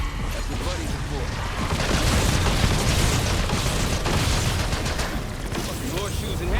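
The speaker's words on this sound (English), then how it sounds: "He tried to trip me up to trap me within the exploding zombies" Zombies exploding in a video game, heard as a loud, continuous barrage of booms, bursts and gunfire-like pops that stays dense for the whole stretch.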